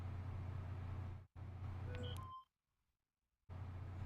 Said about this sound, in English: why is it still beeping if it blew up?